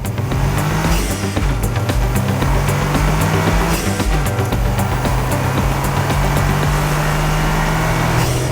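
A Toyota GR Yaris hot hatch screams through its revs on a race circuit at close range, with rising and falling engine notes and gear changes across the whole stretch. Tyres squeal briefly.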